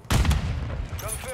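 A sharp gunshot burst opens a loud round of gunfire in Call of Duty: Modern Warfare II multiplayer, followed by booming reverberant decay and faint game effects.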